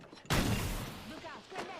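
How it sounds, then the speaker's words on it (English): Knuckle cluster weapons firing in a video game: one loud burst of explosive blasts that swells and trails off, followed by a second weaker pulse, with game noise around it. "Knuckle clusters firing."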